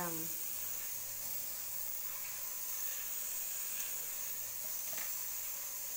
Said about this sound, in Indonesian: Nanti daun singkongnya lagi dikukus.